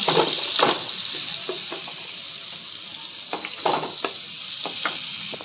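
Food frying in a pan with a little butter and a little oil, a steady bright sizzle with occasional clinks and scrapes of a utensil, close and without speech.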